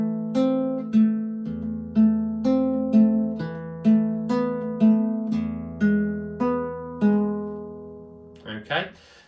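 Classical guitar playing a bar of Carcassi's Etude No. 7, Op. 60: evenly spaced plucked notes in a steady arpeggiated pattern over a sustained low E bass, close and clear, ending with a brief scrape.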